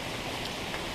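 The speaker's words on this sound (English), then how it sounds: "Still raining." Hurricane Harvey rain falling in Houston, a constant close hiss of dense downpour with no breaks and no voices.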